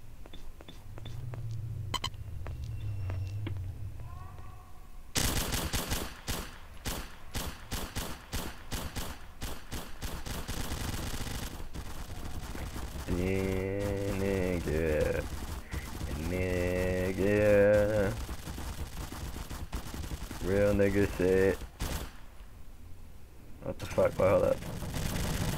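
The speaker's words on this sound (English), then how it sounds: "that spread shot is fucking crazy as fuck with the PPSH" Rapid bursts of PPSh submachine gun spray fire in a Soviet-themed 1942 roleplay video game, dense automatic volleys running through most of the stretch, with game tones and voices talking over parts of it.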